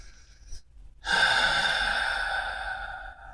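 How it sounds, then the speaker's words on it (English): One deep breath drawn in, heard as a brief faint sniff and then a long, steady airy inhale lasting about two seconds in a quiet room. "Take a deep breath."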